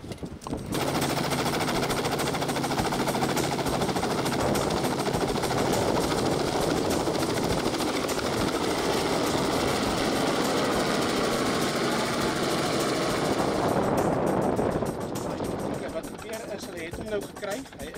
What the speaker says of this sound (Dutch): So die helikopter is nou redelijk naby hom.